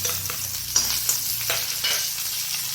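Shallots sizzle and crackle steadily in hot oil with popped mustard seeds, with a few sharper clinks of stirring against the pan.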